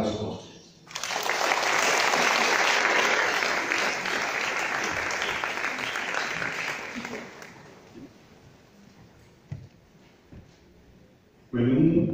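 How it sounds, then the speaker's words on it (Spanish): An audience at an inaugural cocktail event for a Colombian-Venezuelan literary gathering breaks into loud, dense applause that swells, holds for several seconds, then tapers off. A speaker's voice returns at the end. "un aplauso a ustedes"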